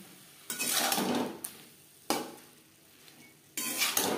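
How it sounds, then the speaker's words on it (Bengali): A spoon stirs tomato paste through vegetables and chicken in a pan for chicken chow mein, coming in three bursts of scraping and sizzling with short quiet gaps between them, and no voices. "সবজি ও চিকেনের সাথে টমেটো সস বেশ ভালো করে মিক্সড করে দেব।"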